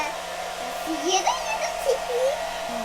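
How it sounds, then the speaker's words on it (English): A blow dryer drying a squishy toy runs with a steady, close, airy whoosh for the whole stretch, with a faint voice-like warble riding on top. "you can use a blow dryer to help your squishy dry faster."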